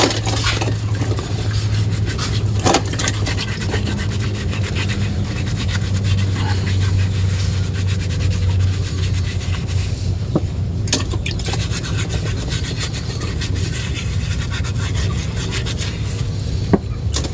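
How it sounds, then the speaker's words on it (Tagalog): Eggs scrubbed clean with a scrubber while being washed to remove dirt, a steady rough rubbing and scraping that runs continuously and close up, with occasional sharper knocks. "hugasan po natin ang itlog. Gamitin natin ng pangkusot para matanggal yung ano"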